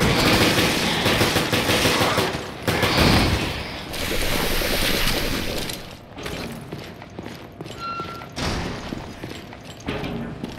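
Sustained, loud automatic gunfire from Resident Evil Revelations, dense and continuous for several seconds before thinning into scattered shots and mechanical clatter.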